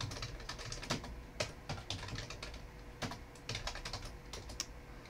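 Quiet typing on a computer keyboard while writing Elixir code: soft, irregular clusters of key clicks with short pauses, close and alone.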